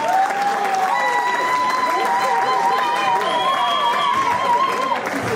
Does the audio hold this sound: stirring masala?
no